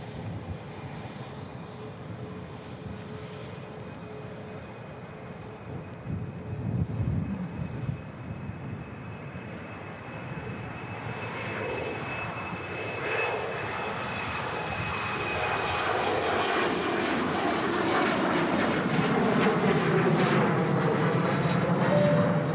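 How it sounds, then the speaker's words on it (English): An Aer Lingus Airbus A320 on final approach at Manchester Airport, a steady jet engine roar growing gradually louder as it nears, with a faint whine over the rumble. "We've got a classic liveried Aer Lingus A320 coming in. That's on the final approach at the moment."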